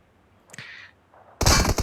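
Burst of gunfire in the PUBG Mobile team deathmatch, a brief crack near the middle, then a loud dense volley of shots at the end, with no talk.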